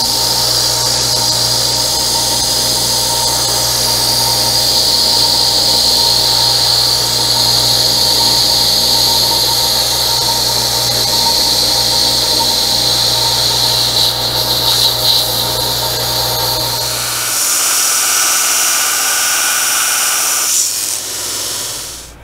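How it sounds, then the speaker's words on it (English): A metal lathe's boring tool cutting a quarter-inch radius into the end of a slot in steel gives a loud, sustained high-pitched squeal over a steady machine hum, then the tone shifts and fades as the cut ends. "right now it's cutting a quarter inch radius on the end of the slot"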